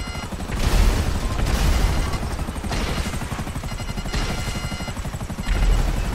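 A helicopter in the GTA video game with a loud, close rotor that thumps and chops steadily and surges in waves, mixed with bursts of game noise.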